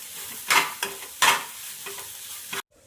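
Food for egg chutney sizzles and is stirred in a frying pan, with several loud bursts of sizzling and scraping close by that stop abruptly near the end, and nobody talks.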